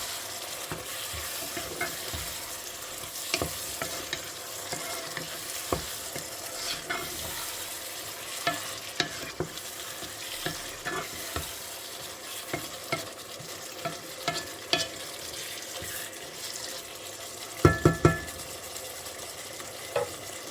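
Lentils with bacon and sausages bubbling and simmering in a pot with thyme and salt, a steady low sizzle broken by scattered soft clinks and stirring knocks, with a brief louder clatter near the end.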